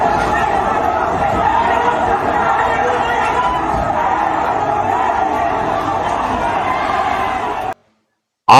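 Angry mob chasing a police vehicle in Bangladesh, a dense roar of shouting and chatter from many voices, steady and loud throughout, cutting off abruptly near the end.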